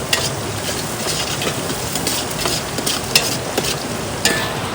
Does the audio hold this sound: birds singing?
no